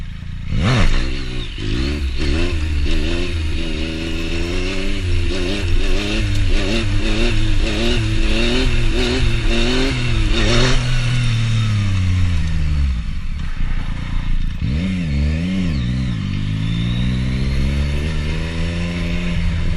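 Yamaha FZ-09 motorcycle engine revving hard through repeated first gear clutch-up launches, loud rising and falling engine pitch sweeps one after another, with a drop at about eleven seconds before climbing again.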